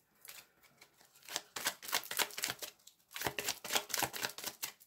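A tarot card is laid down on a spread in a quiet room, a burst of crisp papery slaps and shuffles in close succession, brief pause, then more quick card handling.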